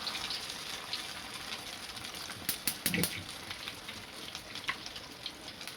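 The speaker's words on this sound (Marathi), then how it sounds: "आपलं तेल गरम झालेलं आहे. याच्यामध्ये आपल्याला आता हे रोल सोडायचे आहेत." Bread rolls sizzle steadily in hot oil, a quiet continuous frying hiss with a few sharper crackles and spits rising briefly near the middle, no talking.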